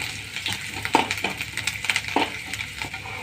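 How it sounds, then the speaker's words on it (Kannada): Ginger, garlic, green chilli and curry leaves frying in a little oil, with a soft steady sizzle broken by a few sharper crackles and spatula scrapes near the pan. "ಶುಂಠಿ, ಆಮ್ಯಾಗ ಬೆಳ್ಳುಳ್ಳಿ, ಸ್ವಲ್ಪ ಹಸಿಮೆಣಸಿನ್ಕಾಯಿ, ಕರಿಬೇವು ಹಾಕಿ ಸ್ವಲ್ಪ ಚಲೋತ್ನಾಗ ಫ್ರೈ ಮಾಡ್ತಾನೆ"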